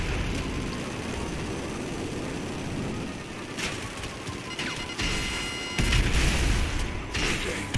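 Heavy gunfire from a Mark II weapon in GTA 5 Online, a dense continuous barrage with sharper bursts and booms toward the end, loud and close.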